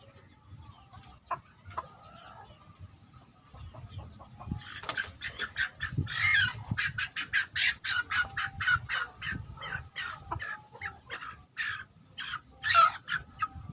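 Chickens cluck in a rapid, uneven stream of short calls, fairly close, over a low rumbling background.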